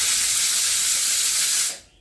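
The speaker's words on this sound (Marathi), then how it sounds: "शिट्टी झालेली आहे" A pressure cooker cooking dal methi over a medium flame whistles as steam is released, giving one loud, steady hiss that cuts off abruptly near the end.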